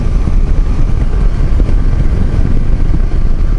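Steady, loud engine drone of a Kawasaki VN250 Eliminator motorcycle, a 250 cruiser with a 16–17 litre tank, running continuously up close with a dense low rumble and no speech.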